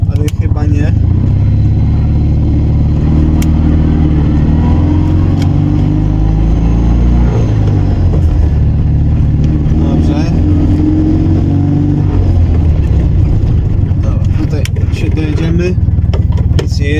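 Small Fiat 126p (Maluch) engine droning steadily while the car drives along in the dark, loud and continuous throughout, with voices talking inside the car.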